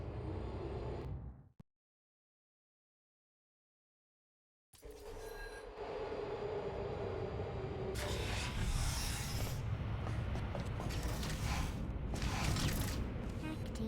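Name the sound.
elevator moving in Portal: Revolution video game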